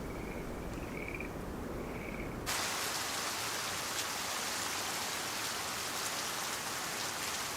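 Steady rain falls on forest trees hung with foam egg nests, a dense, even hiss that grows louder and fuller partway through, with faint frog-like calls early on and no voices.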